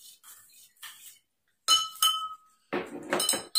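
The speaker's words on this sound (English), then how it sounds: "Now I am dissolving the sugar in a glass of water." A metal spoon clinks against a drinking glass while sugar is stirred into water, giving a few quick bright taps in short bursts, close and clear, with brief quiet gaps between them.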